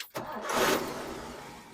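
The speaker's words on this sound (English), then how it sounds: "Of course I'll start it up. We can hear the Rocket run." A 1961 Oldsmobile F-85 Deluxe's quiet Rocket engine cranks briefly and catches, settling into a quiet, steady idle close by.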